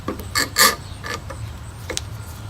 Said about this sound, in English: now we'll clamp it all together and then let it set